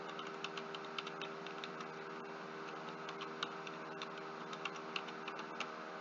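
Keys on a computer keyboard are tapped in a steady run of soft, quick clicks while numbers are typed into an Excel spreadsheet, faint over a constant hum.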